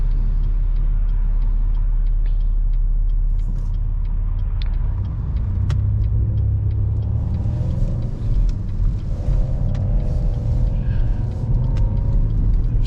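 A car engine rumbles low and steady while driving on a road at night, with a deeper drone at first that shifts as the car keeps rolling, and light road noise over it.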